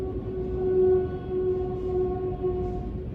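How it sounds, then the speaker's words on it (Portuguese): A train passes by, heard as a sustained, fairly quiet tonal whine or horn-like hum over a low rolling rumble. It holds steady for a few seconds with no voices. "Espera passar o trem."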